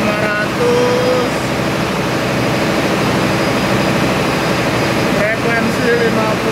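A Cummins QSM11 diesel auxiliary generator running at 1500 rpm aboard an Indonesian cargo ship: a loud, steady engine drone filling the engine room, constant and unbroken, with a voice faintly talking over it.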